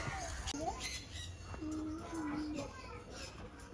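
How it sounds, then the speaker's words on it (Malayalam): Loud squawks from a Senegal parrot ring out close by, a few harsh calls in a row, with children's voices and chatter in the background. "വെറൈറ്റി തത്ത"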